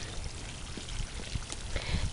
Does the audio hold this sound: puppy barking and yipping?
no